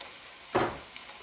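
Pork or turkey sausage being broken up in a hot pan gives a single brief sizzle-and-scrape burst, close and fairly quiet, against a faint background hiss.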